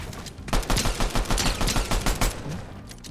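Pistol fired rapidly in a ranked video game match, a fast loud string of about fifteen evenly spaced shots after a brief lead-in.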